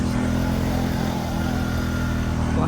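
A motorbike climbs a rough off-road track near Rishing, Tanahun, its mid-pitched engine droning loud and steady under strain, close by, with no voices.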